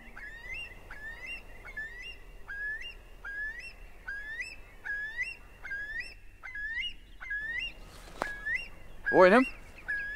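A Eurasian curlew gives its rising, bubbling yodelling call at sunrise, a repeated series of clear whistled notes in steady rhythm at moderate distance, ending in a louder rippling trill over a faint outdoor background.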